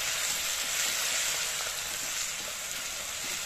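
Chopped ginger frying in hot oil with asafoetida tempering, a steady, dense sizzle that holds at an even level throughout, close and alone with no voices.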